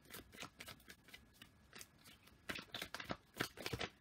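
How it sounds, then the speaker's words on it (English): Tarot cards being shuffled and sorted by hand, quiet papery riffles and flicks in scattered bursts, with a denser run of slaps and shuffles toward the end, close and soft. "So I'm just trying to sort out the cards."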